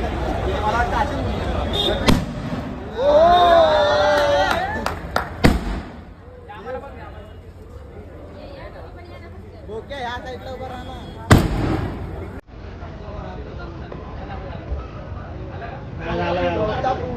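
Firecrackers and fireworks burst at a celebration for a newly bought car outside a showroom, sharp pops and bangs scattered across the clip, loudest early on and again near the middle, with people talking and shouting throughout.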